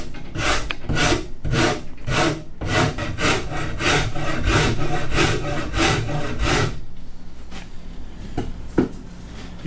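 A half-round rasp on a wooden guitar neck heel transition makes fast, rhythmic scraping strokes, close and loud, about a dozen in a row before stopping, followed by a few faint knocks.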